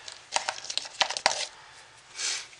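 Soap confetti pieces stirred into soap batter, a quick run of close soft crinkly scrapes and taps with a brief rushing swish at the end.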